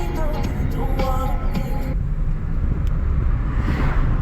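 A cheap used beater car drives along with steady road and engine noise, a loud continuous rumble heard from inside the cabin, with no talking.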